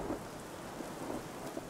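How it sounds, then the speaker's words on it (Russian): Thunderstorm in the video game Chronos: Before the Ashes, heard as a steady, fairly faint wash of rain with low rumbling swells, no voices. "Гроза."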